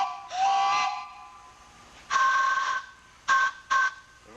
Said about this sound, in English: we blow the whistles by air